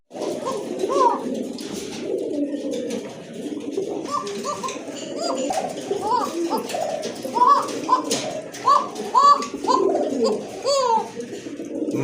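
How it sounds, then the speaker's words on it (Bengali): A pair of koka pigeons cooing close by in a bird market, giving repeated low, rolling coos in overlapping bursts, with background voices and faint chatter. "এক জোড়া কোকা কবুতর, খুবই ভালো মানের কোকা কবুতর, অনেক ভালো ডাকে কিন্তু এই নটটা।"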